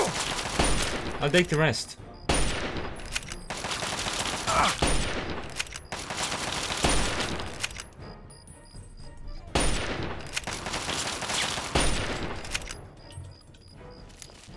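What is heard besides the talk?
gunshots in video game Fallout 3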